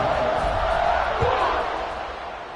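A dense stadium crowd roars steadily at kickoff in the College Football 26 video game, FCS Southeast hosting #7 Tennessee, a broad continuous swell that fades slightly toward the end.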